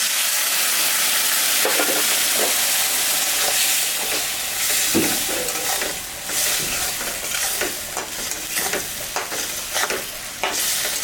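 A paste of ginger, cumin, dried red chilli and green chilli fries in a pan for a small-fish chorchori. Loud, constant sizzling is broken by repeated scraping stirs, with no one talking.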